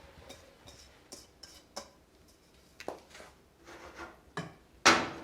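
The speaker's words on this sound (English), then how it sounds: "So now we are going to place 1 pound of diced mushrooms" A pound of diced mushrooms tipped into a cooking pot on the stove, heard as faint scattered taps and utensil clicks, ending in one louder clatter.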